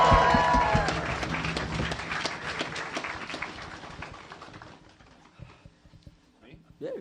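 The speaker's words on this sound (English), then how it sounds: "Give a round of applause" Live podcast audience applause breaks out loudly at first, then gradually thins into scattered claps and fades to near quiet, with a brief voice at the very end.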